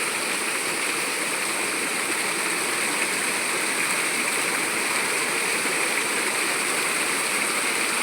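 Water rushes steadily in a flowing stream or small waterfall, making a constant, loud, even hiss with no pauses and no voices over it.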